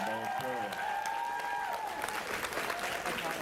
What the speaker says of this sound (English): can we have a quick round of applause for all of them?